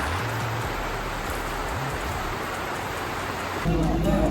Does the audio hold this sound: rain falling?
yes